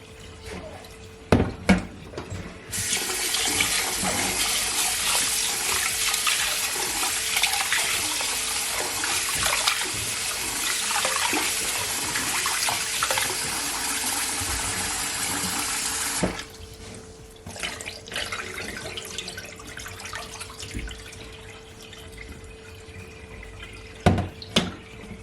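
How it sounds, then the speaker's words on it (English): Water pours steadily for about fourteen seconds, a broad rushing splash, then stops, leaving faint drips and small clatters. "Just drain it off."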